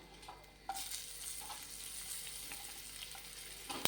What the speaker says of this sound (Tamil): இப்போ கடலைப்பருப்பு, உளுத்தம்பருப்பு நல்லா வறுபடணும்